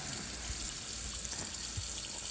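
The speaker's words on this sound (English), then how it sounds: "Just takes a little shaking there to get the excess water rinsed out the bottom too." Steady running water rinses blueberries inside a pumpkin-shaped plastic fruit washer, a continuous close splash and trickle with a faint low rumble, no voices.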